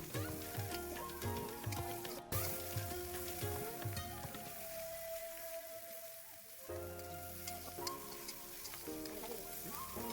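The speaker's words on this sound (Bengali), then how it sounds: "তেলটি গরম হয়ে গেলে আগে থেকে কাটা পেঁয়াজ মরিচ দিয়ে দেব" Chopped onion and chili sizzle steadily in hot oil in a pan for masala Maggi noodles. The frying crackle is moderately loud and continuous, briefly settles midway, then picks up again with occasional clinks.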